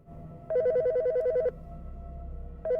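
An electronic phone ring in the video game Bad Summer trills in two bursts, a warbling tone about a second long, then a pause and another burst starting.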